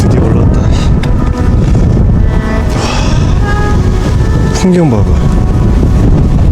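Strong wind buffets the microphone on a mountain summit at night, a loud continuous roar with a person speaking briefly over it.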